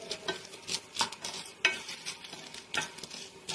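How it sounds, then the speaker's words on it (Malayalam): Roasted gram sizzling in ghee while a spoon stirs it, with repeated scraping strokes over a steady, close frying hiss and no voices. "അതിനുശേഷം നമുക്ക് പൊട്ടുകടല ഇട്ട് കൊടുത്ത് അത് നമുക്ക് നെയ്യിലൊന്ന് ഫ്രൈ ചെയ്തെടുക്കാം."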